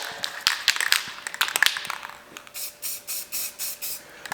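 Aerosol can of tail light tint spraying on a Ford F100 Dentside in short, even hissing bursts, about seven rhythmic sprays following some earlier tapping and handling noises, fairly close.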